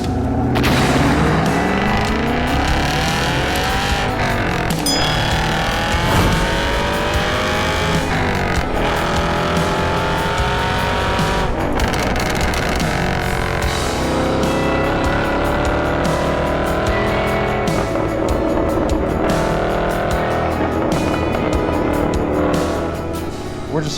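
A Chevrolet Camaro SS 1LE climbs a canyon road in the early morning, its engine note loud and continuous, with rising and falling harmonics as it pulls through the gears, close and steady throughout.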